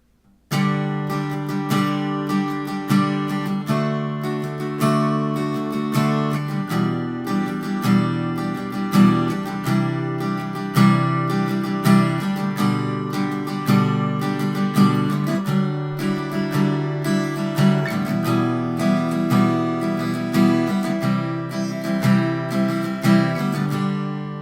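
Steady strummed chords on an acoustic guitar, played at a relaxed, even pace, up close with no talking.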